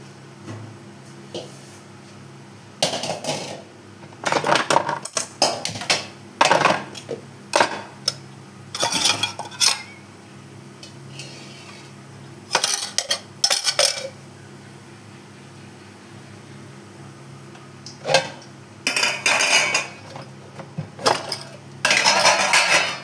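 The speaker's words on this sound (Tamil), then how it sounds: "அடுத்த பக்கம் தயிர் தாளிப்பு." Utensils clink and scrape in a pan while spices such as chana dal, urad dal and dried red chillies are tempered for curd rice, sounding in irregular bursts of metallic clatter with quiet gaps in a home kitchen.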